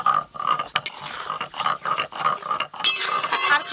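A metal lid set onto a pot of half-boiled lentils with green hog plums, clinking and clattering close by amid kitchen handling noise, with a louder scrape and rattle near the end.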